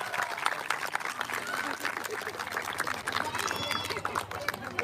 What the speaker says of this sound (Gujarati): દરેક એકદમ જોરદાર તાળીઓથી વધાવો.